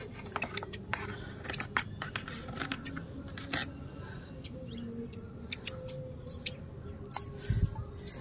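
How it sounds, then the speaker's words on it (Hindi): Cloth-cutting scissors snipping garden plants during backyard garden cleanup, a run of quick irregular crisp cuts close by over faint outdoor background. "तो कपड़ा काटने वाली कैंची का उपयोग कर रहे हैं"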